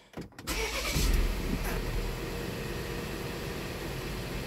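A car engine cranks and catches after a diesel intake valve cleaning while chasing a cylinder misfire, then settles into a steady, fairly loud idle with no talk.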